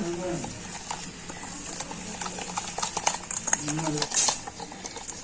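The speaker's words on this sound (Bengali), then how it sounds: "ছুরিটা দিয়েও কিন্তু খুব ভালো করে এইভাবে একটু আমি ফেটিয়ে নেব" A knife beating semolina and sour yogurt cake batter in a bowl, giving rapid, close, rhythmic scraping and tapping strokes against the bowl at moderate loudness, with light kitchen background noise.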